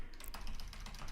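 Typing on a computer keyboard, a short burst of quick close key clicks over a steady background hiss.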